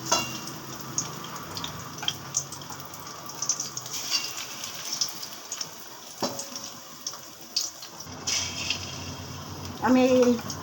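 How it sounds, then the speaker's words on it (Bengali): Battered fish for chilli fish deep-fries in oil with a bright, hissing sizzle. Soft clinks and a brief bubbling, watery burst come near the end, and a voice can be faintly heard in the background. "আমি এই চিলি ফিশ করবো বলে এগুলোকে আগে একটু ফ্রাই করে নিচ্ছি"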